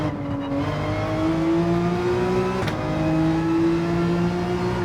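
Porsche 911 engine in Gran Turismo 7 roaring at high revs, a steady climbing drone with a quick blip partway through as gears change, loud and close throughout with no talking.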